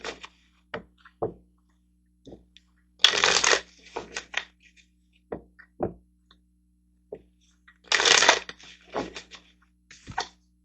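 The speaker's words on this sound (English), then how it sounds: "So let's get a couple of cards over here." Tarot cards being shuffled in bursts, two long riffling runs among softer taps and card handling, close and clear in a quiet room with no talk.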